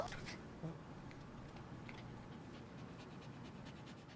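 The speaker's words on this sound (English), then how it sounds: "I have a small dog in my vehicle" A small dog pants steadily inside a vehicle, a continuous breathy rhythm over a low rumbling background with scattered faint noises.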